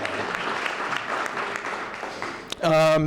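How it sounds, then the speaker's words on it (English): Audience clapping at a town State of the Town meeting, a continuous even patter for about two and a half seconds before a voice cuts in close to the microphone. "that's a good applause"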